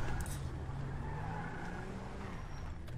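A car in GTA with the LSPDFR mod rolls to the roadside with a steady, moderately loud engine rumble, faint and close, a few brief clicks near the start and end.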